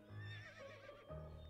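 A horse whinnies in the video game To the Moon, a short rising neigh followed by a second, deeper burst with a low rumble, fairly loud and heard alone without talk.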